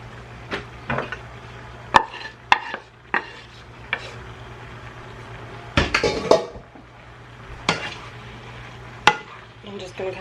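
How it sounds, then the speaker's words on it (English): Pasta goes into a pan of buttery sauce, with a run of sharp clinks and scrapes from a utensil against the pan, irregular knocks and clatters up close, and a low steady hum underneath. "So I'm going to go on and add my pasta."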